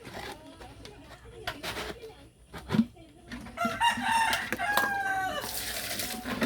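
Farm chickens cluck close by and a rooster crows through a muddy, rain-soaked yard, with scattered sharp calls and bursts of squawking.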